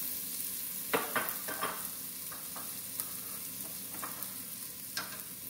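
Green onion and garlic sauté in a pot alongside mussels, a soft continuous sizzle broken by scattered scraping and stirring knocks as the aromatics are pushed around.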